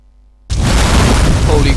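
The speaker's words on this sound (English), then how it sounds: "Explosions rocked the hospital." In the video game Land of the Dead: Road to Fiddler's Green, a sudden loud blast bursts in at a hospital after a brief quiet moment, followed by a sustained roaring rumble.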